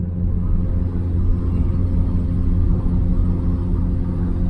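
A Reliant Fox under way gives a steady, loud low engine and road rumble that carries on unbroken with no voices, the load bay packed full of assorted junk.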